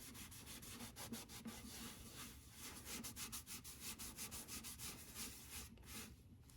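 Cloth rubbing and buffing a vintage oil can with Meguiar's #6 cleaner wax, a steady close scrubbing rasp in rhythmic back-and-forth strokes throughout, with no talk.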